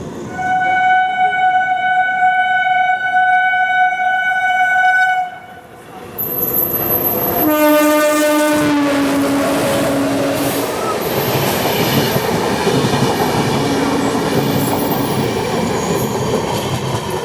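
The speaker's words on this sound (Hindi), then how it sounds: "ये है MGR Chennai central Howrah mail express." Horn blasts from the MGR Chennai Central–Howrah Mail Express sound out before it rushes past on the opposite line, a loud, steady roar of wheels and coaches with a second horn call partway through.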